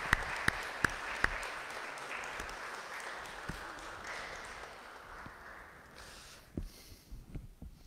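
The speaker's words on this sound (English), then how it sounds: "let's give you a round of applause" Applause from a church congregation at Sunday worship, a soft, fairly distant patter of clapping with a few sharper claps, faint and sustained throughout.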